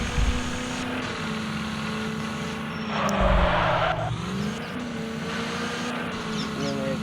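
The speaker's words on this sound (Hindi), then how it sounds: "कार को कर दिया स्टार्ट। तो हम निकल गए घूमने के लिए।" A car drives along steadily with a continuous engine hum and road noise, rising briefly louder midway, with no talking.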